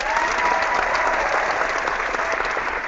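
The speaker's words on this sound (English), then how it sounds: "there's your round of applause" A sustained round of applause from a crowd, even and continuous throughout, moderately loud with a slightly muffled, compressed character and no voices on top.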